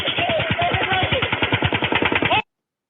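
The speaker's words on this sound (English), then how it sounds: "You can hear the guns in the background" A rapid, steady burst of gunfire rattles for about two and a half seconds in a body camera recording, then cuts off abruptly into silence.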